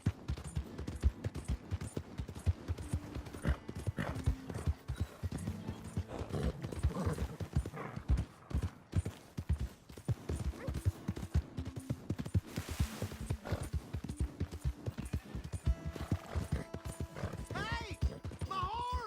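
A horse in Red Dead Redemption 2 gallops with rapid, rhythmic hoofbeats and whinnies near the end, with voices talking briefly amid game sounds.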